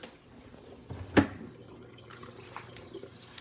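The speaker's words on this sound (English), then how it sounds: "that pump kicks on to drain your water out of here" A GE Monogram ice maker's reservoir drain pump pushes water out, giving a low, steady hum with faint watery trickling and one sharp drip-like splash near the middle, heard close and fairly quiet.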